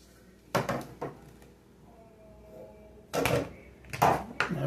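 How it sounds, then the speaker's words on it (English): Handheld pipe cutters snap through PVC pipe in a few sharp, close clicks and cracks, with quiet pauses between the separate cuts. "I'm going to take these cutters and I'm going to cut it as close as I can to that."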